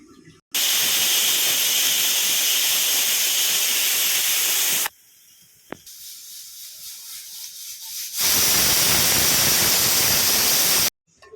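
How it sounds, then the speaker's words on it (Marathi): A pressure cooker cooking a dry green pea curry lets off two long, loud bursts of hissing steam, separated by a quieter stretch, the sound close and harsh. "कुकरचे झाकट लावून तीन चार सिट्ट्या काढून घेऊया"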